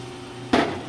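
The middle roller on a HEM VT150A-SS saw rises during automatic clamping of the workpiece, heard as one sudden close mechanical clunk over a steady machine hum, followed by a lingering rattle.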